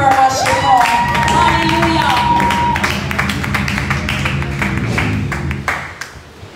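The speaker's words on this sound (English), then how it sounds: "Please just clap her as she calls." Church congregation claps after a testimony, a steady patter of many hands in a reverberant hall, with a voice and musical tones sounding underneath before the clapping thins out.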